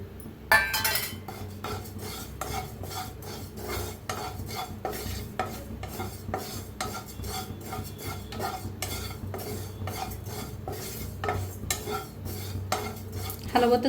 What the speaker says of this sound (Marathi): हलवतच भाजायचं नाही तर लगेच करपते ते.